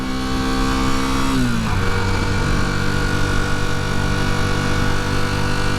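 A Honda CB250 Super Dream engine drones at steady revs, stumbles briefly, then drops to a lower, rough, unchanging hum and fails to pick up speed, loud and close.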